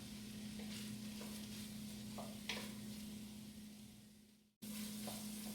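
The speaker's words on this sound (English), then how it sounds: "3 tablespoons of butter going in. And all we're going to do is get that butter melted." Butter melting in a pot, three tablespoons for Louisiana-style red beans and rice, giving a steady soft sizzle over a low constant hum, a few faint scrapes, then a brief dropout before the sizzle resumes.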